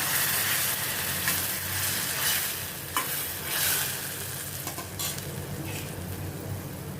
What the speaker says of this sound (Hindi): टमाटर की प्यूरी डाल के मैं अच्छी तरह से इसको घुमाती हूँ